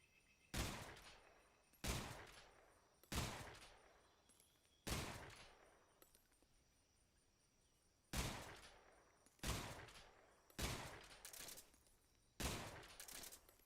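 Gunfire in the Metal Gear Solid Delta video game: eight sharp, loud shots fired singly at uneven intervals of about one to two seconds, each decaying quickly, with a pause in the middle and no talking.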